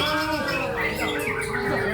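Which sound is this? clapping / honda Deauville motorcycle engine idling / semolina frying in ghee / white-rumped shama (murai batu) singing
white-rumped shama (murai batu) singing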